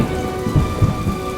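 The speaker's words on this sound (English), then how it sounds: "Lightning flashed and thunder boomed." Steady rain falls through a thunderstorm, with low rumbles of thunder swelling briefly twice beneath the constant wash of rainfall, with no voices.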